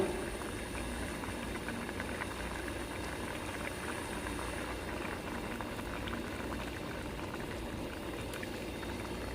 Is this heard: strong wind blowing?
no